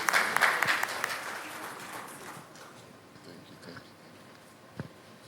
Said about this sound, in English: Please clap for him as he comes on.